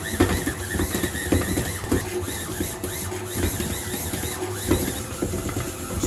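A stand mixer kneads high-hydration pizza dough made with sourdough starter and mixed flours at higher speed. It gives a steady, dense mechanical whir with rhythmic knocking and slapping, running without talk.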